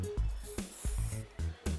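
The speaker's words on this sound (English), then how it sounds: "Spray the backcomb a bit so that it stays in place." Short bursts of hairspray hiss onto backcombed hair at the crown, several quick puffs in a row close by, with brief gaps between them.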